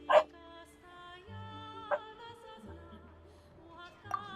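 A dog in the video game Genshin Impact gives a few short, separate barks over sustained tonal game music, with no voices.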